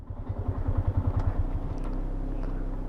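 Motorcycle engine idling nearby during a convoy ride home from Bambang, with a low rhythmic chugging that smooths into a steady rumble.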